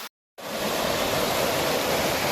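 Tenogtog Falls in Mayoyao, Ifugao roars as a dense, steady rush of falling water, loud and close, starting abruptly after a brief silent gap and continuing unbroken.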